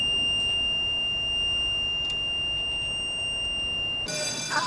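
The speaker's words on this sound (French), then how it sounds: "S'il y a de l'eau qui rentre dans le garage, ça va déclencher une alarme là-haut sur la passerelle." A water-leak detector alarm sounds aboard a ferry. A steady, piercing electronic tone holds over a constant hum of machinery, then a louder, harsher buzzing blast cuts in at the end.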